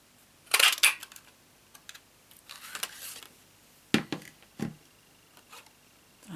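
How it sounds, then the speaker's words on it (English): Paper punch working a card sentiment for a Stampin' Up! cat card, giving several sharp clicks and snaps with short handling rustles between them, close by and fairly quiet, no voices. "I'm going to punch out the sentiment, and I'm using our washi tape punch for this"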